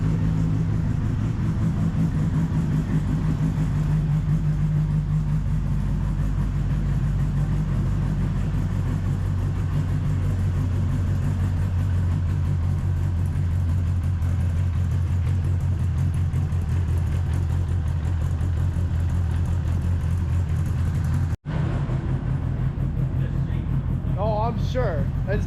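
A twin turbo Dodge Viper idles nearby, a steady low rumbling drone muffled by the turbos, holding evenly for over twenty seconds before a brief cut, with talk over it.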